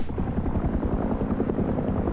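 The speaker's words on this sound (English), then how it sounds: "Does kind of sound like the attack helicopter." A brief, loud burst of the attack helicopter in Rust: dense, rapid low rotor thumps pounding close and steady with no pause, the rhythmic beating filling the whole moment.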